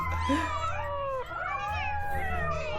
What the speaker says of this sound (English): There's cats.